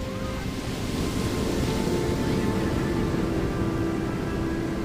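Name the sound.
water splashing and rumbling in the ocean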